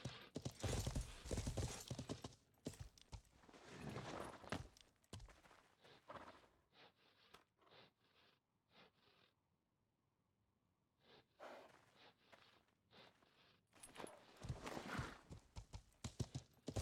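A horse's hooves clip-clop in Life is Feudal. The steps come in bursts with snorts and breaths, loud at first, then dropping to quiet, scattered footfalls before the pace picks up again near the end.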